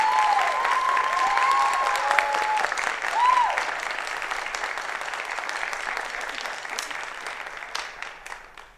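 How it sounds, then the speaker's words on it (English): A concert audience applauds the graduating seniors at a high school music concert, a steady wash of clapping in a large hall with a brief whistle early on, gradually thinning toward the end. "So if we could give a big round of applause to all of our seniors."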